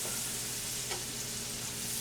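Chopped onion frying in grease in a pan while being stirred, a steady close sizzle with a soft scrape of stirring, and no voices.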